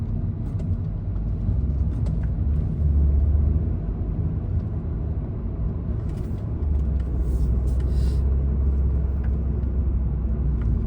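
Steady low rumble of night road traffic on King Fahad Road in Riyadh, heard from inside a moving Changan Eado, with continuous engine and tire drone and occasional passing vehicles swelling slightly louder.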